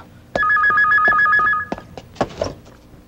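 A telephone rings with a rapid warbling electronic trill for over a second, followed by a few clunks and handling noises, no talking.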